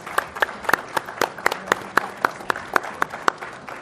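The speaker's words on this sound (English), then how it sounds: "please join me in a round of applause for our panelists" Audience at a theater talk on high-performing technical teams applauding its panelists, a few nearby distinct claps in a brisk regular rhythm over softer clapping from a small crowd.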